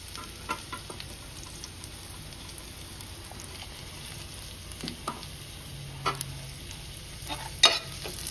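Onions frying in a pan with occasional stirring, a steady soft sizzle running throughout with light scraping taps and clicks, close and alone.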